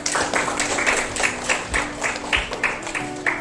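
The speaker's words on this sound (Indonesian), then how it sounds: "Terima kasih, tepuk tangan untuk Siva" A school class gives a student a round of applause, a short burst of many hands clapping at moderate volume, fairly close, with a faint background hum.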